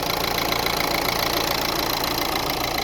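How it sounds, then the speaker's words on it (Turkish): A car engine idles steadily and close, a constant low rumble with a faint knocking pulse and no voices; the engine has about 305,000 kilometres on it and shakes slightly. "mikrofonumu motorun sesini daha güzel duyursaydım size"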